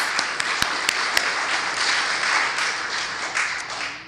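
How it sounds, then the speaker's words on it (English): A crowd at a community gathering breaks into sustained applause, a broad wash of clapping with a few sharp claps standing out early, fairly loud and continuous. "Give yourself a round of applause."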